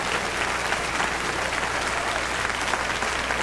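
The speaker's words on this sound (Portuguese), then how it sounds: "Aplausos para Deus agora." Applause from a church congregation during a Portuguese-language sermon, a dense, steady wash of many hands clapping at an even level throughout.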